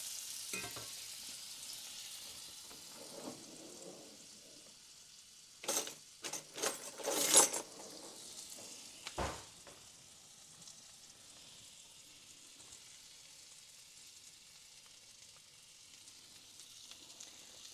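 A tablespoon of butter sizzles in a skillet over slightly lowered heat, a steady soft hiss throughout, with a brief run of metallic clatters and scrapes midway and no talk.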